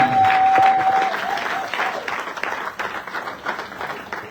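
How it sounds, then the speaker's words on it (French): Church congregation applauding loudly in a burst that tapers into steadier, softer clapping, with a brief tone sounding over the start. "Acclamez pour la gloire de l'Éternel"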